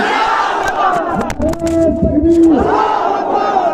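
Political rally crowd roaring a loud, massed chanted response to a Nara-e-Takbir slogan, a brief surging shout of many voices close by.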